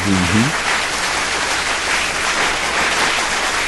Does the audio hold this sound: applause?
yes